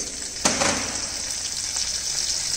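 Cumin seeds and chopped chilies dropped into hot oil, a sudden crackling burst that settles into a steady close sizzle, with no talking.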